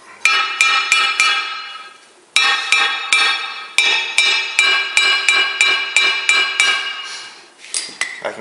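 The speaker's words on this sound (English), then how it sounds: "I can get some of these thick pieces broken with the hammer" A hammer strikes thick pieces of glass in a glass cutter's workshop, a series of sharp ringing clinks in quick bursts, loud and close, with short pauses between groups of blows.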